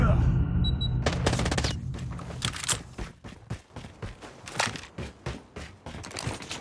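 Rapid bursts of gunfire from a Call of Duty Mobile match, STEN submachine gun, repeated sharp cracks in quick volleys, loud and close, continuing through the clip with brief gaps.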